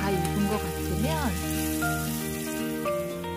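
Steady sizzling of pork belly frying in a pan, a continuous crackle that holds at an even level, with some faint tonal background sounds.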